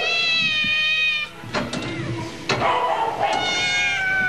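Several cats meow and caterwaul in an animal shelter with stacked steel cages, long drawn-out plaintive cries overlapping one another, loud and close, with shorter meows breaking in between.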